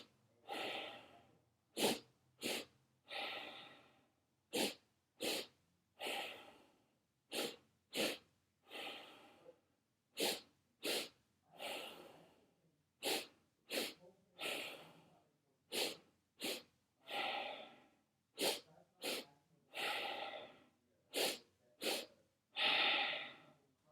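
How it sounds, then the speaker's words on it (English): Breathing exercise for chronic pain: two quick, sharp nasal sniffs followed by a longer exhale, repeated steadily in close, quiet cycles for the whole stretch. "2 quick short inhales and 1 regular exhales."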